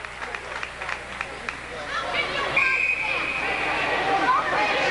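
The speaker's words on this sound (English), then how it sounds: "adults in the crowd making all kinds of noise at Schalke Brown" Adult spectators in the stands at a Loyola high school hockey game against New Trier make a steady hubbub of chatter and shouting, swelling louder in the second half with a whistle-like tone cutting through.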